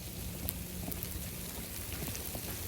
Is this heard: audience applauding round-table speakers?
no